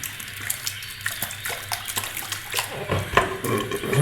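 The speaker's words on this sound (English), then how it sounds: "So I'm rinsing the brush" Running lukewarm tap water splashes over a shaving brush as it is rinsed, a steady near hiss with shifting splashy bursts and no talk.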